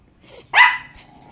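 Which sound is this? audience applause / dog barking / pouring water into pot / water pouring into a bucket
dog barking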